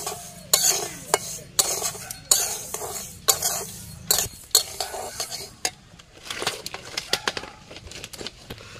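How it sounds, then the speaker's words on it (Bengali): Sago pearls frying in a pan, with rhythmic metal scraping and clinking of a spatula against the pan over a soft sizzle, then lighter scattered stirring. "একটু ভালো করে ভেজে নিই সাবুটা।"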